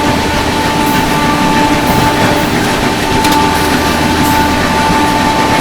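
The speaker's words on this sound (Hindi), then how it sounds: "Lucknow AC superfast express overtake करने जा रही है मुजफ्फरपुर गरीब रथ एक्सप्रेस को" New Delhi–Lucknow AC Superfast Express (12430) racing past the Anand Vihar–Muzaffarpur Garib Rath Express, a loud continuous roar of rushing coaches and wheels at high speed with a steady tonal whine.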